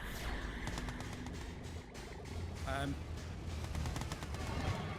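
Rapid Gatling cannon fire in a Red Alert 2: Yuri's Revenge battle, a steady rattling burst of gunfire running under a commentator's talk with other battle noise.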